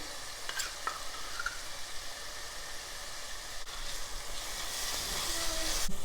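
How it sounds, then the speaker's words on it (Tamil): Garlic paste and ginger paste being sautéed in a pan, giving a steady sizzling hiss with stirring scrapes that grows slightly louder toward the end, with no one talking. "பூண்டு பேஸ்ட் போட்டு நல்லா வதக்கிடலாம்"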